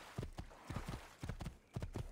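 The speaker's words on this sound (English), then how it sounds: "let's do some horse traversal." Horse hooves clip-clop in a steady trotting rhythm during horse riding in the video game Assassin's Creed 2, heard as repeated bursts of fairly close hoofbeats with no talk.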